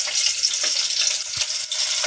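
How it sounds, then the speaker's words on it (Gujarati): Chillies fry in a pan with a steady, close hissing sizzle and a few faint stirring knocks. "પહેલા મરચા તળવાના છે"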